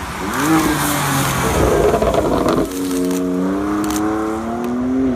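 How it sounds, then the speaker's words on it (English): BMW exhaust revving with a rising engine note, then popping and gargling crackles on the downshift, loud and close, with no talking. "downshift pop gargle thing"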